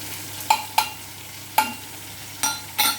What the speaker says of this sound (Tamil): கத்திரிக்காய் நல்லா வதங்கிட்டுருக்கு